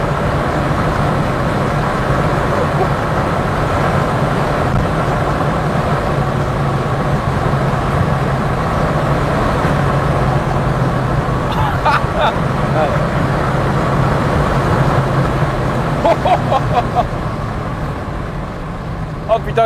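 A Nissan R32 GTS-4 driving, its steady engine and road rumble filling the cabin at constant loudness while someone speaks, with faint clicking near the end.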